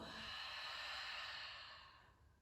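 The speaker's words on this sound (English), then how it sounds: "Exhale, let it go." A long, close exhale of breath during a yoga cooldown, a soft breathy rush that holds steady before gently fading out, quiet and alone.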